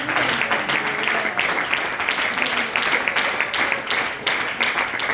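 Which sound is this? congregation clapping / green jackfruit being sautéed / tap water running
congregation clapping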